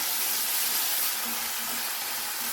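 Chopped tomato cooking with light-brown onions in a pan for a green moong dal, giving a steady, even sizzle and hiss that stays close and constant throughout.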